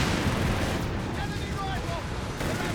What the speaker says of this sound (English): There you go, Nebula firing away there.